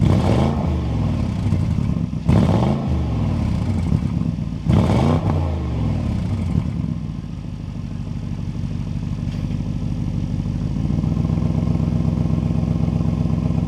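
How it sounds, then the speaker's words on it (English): A 2026 Audi RSQ8 Performance bi-turbo V8 SUV cranks and fires up with a few loud revs, then settles into a deep, rumbling idle from the exhaust, close and steady. "this is a bi-turbo V8. We need to go inside, start it up, so you can hear that exhaust now"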